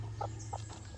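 A mother hen kept with six chicks clucks softly in short repeated notes, three quick clucks over a low steady background hum, faint and close.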